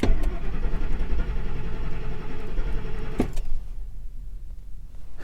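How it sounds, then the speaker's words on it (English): Ford truck engine cranking without catching, a rough, rumbling starter-and-engine sound with uneven pulses for about three seconds, then a clunk and a quieter stretch of low residual noise. "the truck is not starting"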